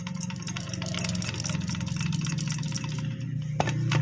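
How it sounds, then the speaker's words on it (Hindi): A Toto Crown e-rickshaw's gearbox gives off a faint whine and knock over a steady, close mechanical hum, with a brief clank near the end and no voices. "ये जो हमारा जो गियर बॉक्स होता है क्राउन, हल्का सा आवाज़ आ रहा है"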